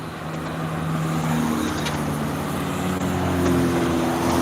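Cars pass along the Malecón avenue in Havana, a steady engine rumble rising and shifting as vehicles roll by close at hand, with outdoor street noise underneath.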